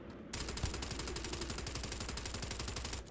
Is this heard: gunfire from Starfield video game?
yes